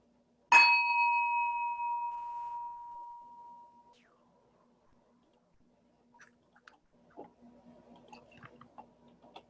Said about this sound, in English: We begin our service by ringing a bell to bring us together.